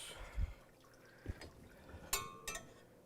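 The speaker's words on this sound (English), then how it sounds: "You notice I'm shooting the water right into the opening in the door so I don't get splashback." Water sprayed into the door opening of a B12 water ice machine to rinse it, heard as faint splashes and trickles with a few sharper bursts of spray, no talk.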